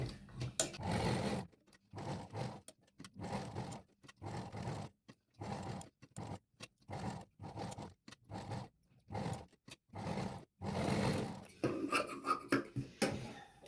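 A sewing machine runs in short repeated bursts of rapid stitching with brief pauses between them, working along the curved edges of a double-layer sleeve and its lining. The sound is close and fairly quiet, and no one talks.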